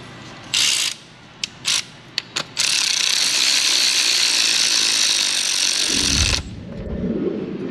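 Ratchet clicks fast as a stud is threaded in and torqued during a timing belt job on a 2008 Lexus RX400h, starting with a few short bursts, then a long continuous ratcheting run, close and loud without talk.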